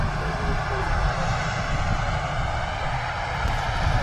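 Steady, loud roar of aircraft engines at Manchester Airport, continuous low rumble with a broad airy hiss, holding constant throughout with no breaks.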